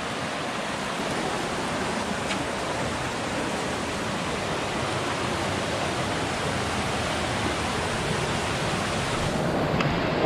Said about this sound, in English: Tiu Kelep waterfall in Lombok.